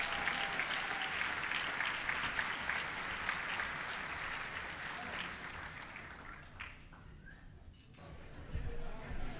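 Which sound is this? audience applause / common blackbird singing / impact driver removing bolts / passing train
audience applause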